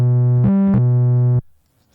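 A synthesized sine wave run through distortion gives a buzzy, harmonically rich tone that steps between pitches twice, then cuts off abruptly, leaving near silence.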